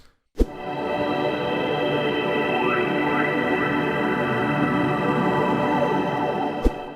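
A steady synthesized ambient drone with shimmering tones and faint sweeping glides, framed by a sharp click at the start and near the end.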